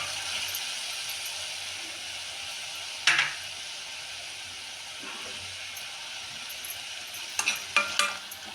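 Egg green rice masala cooking in a pan, a steady broadband frying hiss throughout with a few brief stirring clatters partway through and again near the end.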